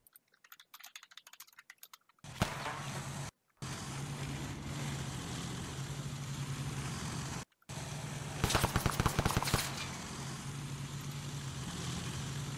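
Gunfire in the ArmA 3 video game, with a rapid burst of automatic fire in the middle, set over a constant low vehicle-like hum and scattered clicks.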